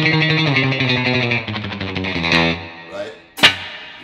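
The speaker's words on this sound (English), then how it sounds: "You can hear there, it's got a ton of reverb, but it could definitely do that." Electric guitar played through a Quilter Superblock amp with the reverb turned way up for a surf sound, a strummed chordal phrase ringing into a long washy tail, ending on a sharp, loud pick attack.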